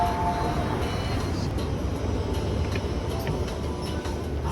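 Steady rumble inside a passenger train travelling from Hong Kong toward Macau, a continuous rolling drone with faint rattles throughout.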